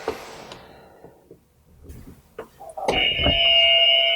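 A quiz buzzer at a coding quiz show sounds a sustained electronic tone in the second half, following scattered room noise and faint activity.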